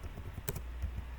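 A few quick, soft keystrokes tap on a computer keyboard while a search bar is filled in, close but faint over a low background hum.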